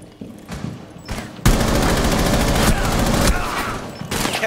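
Sustained automatic gunfire rattles in Rainbow Six Siege on the Villa map, a loud continuous burst after a few quieter shots, with brief talk early on.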